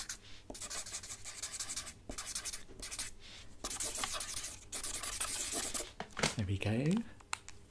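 A pen scratches out an autograph at a sci-fi fan convention, a close, busy scribbling and rubbing texture lasting several seconds, with a voice speaking alongside in an ASMR roleplay.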